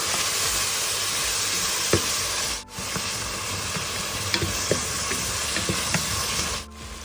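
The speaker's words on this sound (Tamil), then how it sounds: "உப்பு ஆட் பண்ணி வதக்குன்னா தக்காளி வெங்காயம் சீக்கிரமாக வதங்கணும்" Tomato and onion cook with salt in a pan, giving a constant close sizzle with scattered stirring scrapes and a couple of brief pauses.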